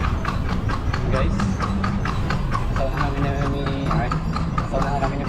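A stray horse's hooves clip-clop in a steady, fairly close rhythm on a Manila city road, heard alongside traffic noise while people talk over it.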